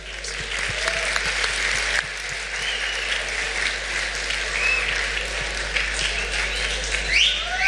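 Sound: audience applause for a school choir

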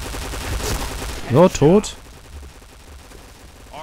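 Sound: gunfire in the video game Piercing Blow

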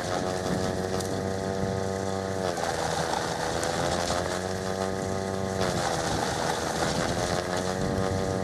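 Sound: Snow Joe iON 80V electric snow blower running

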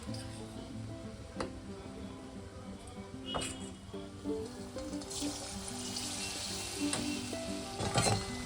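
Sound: frying pitha in a pan

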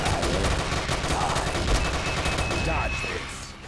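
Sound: machine gun fire in Frontline Commando Rivals video game

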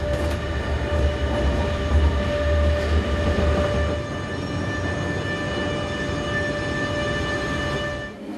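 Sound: train running on rails

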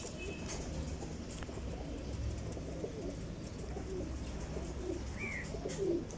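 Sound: desi pigeons cooing

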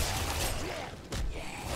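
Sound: fire and explosions in Diablo III video game

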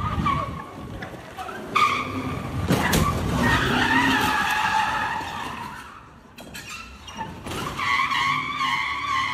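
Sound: BMW car skidding and crashing into a Toyota

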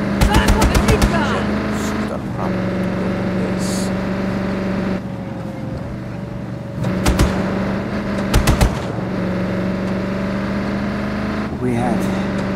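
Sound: mounted big gun firing in video game Just Cause 3

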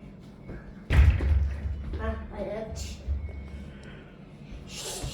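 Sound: football kicked with the foot

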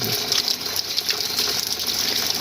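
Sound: water gushing from a hose into a crab pond

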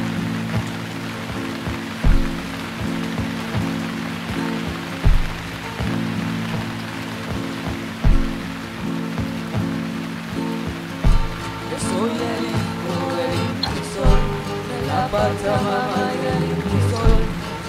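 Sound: rain falling

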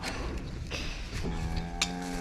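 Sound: cows mooing in a meadow

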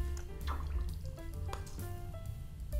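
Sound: filling a toy bottle with a little water

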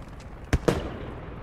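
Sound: impact grenade explosion in a video game simulator

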